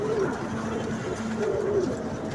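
Pigeons of a flock kept for flying cooing at close range, soft repeated low coos rising and falling in two or three phrases over steady background noise.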